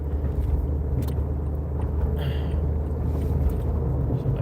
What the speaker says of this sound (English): My car heater's still on.